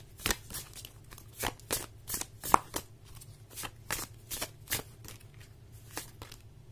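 Oracle cards being shuffled in a steady run of crisp riffling bursts, about a dozen quick flutters close up, with a faint low hum underneath and no talking.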